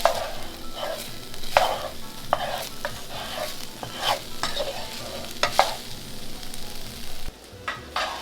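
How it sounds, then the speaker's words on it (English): Tofu fries in a pan under a steady sizzle, broken by repeated scraping stirs at an irregular rhythm, close and fairly loud, with a brief quieter gap near the end. "with your tofu, you're just going to stir it up until it gets"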